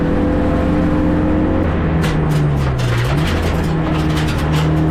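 A BMW race car at Donington Park restarts and pulls away, its engine droning loudly up close with a rising pitch as it accelerates, and gravel rattles against the bodywork.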